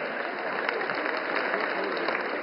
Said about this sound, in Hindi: आइए मंचस्थ विराजमान सभी महानुभाव का तालियों की गूंज के साथ एक बार फिर हम स्वागत करें,